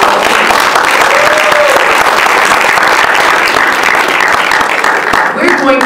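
An evening audience at a panel discussion applauds warmly, dense steady clapping at close range that fades slightly at the very end.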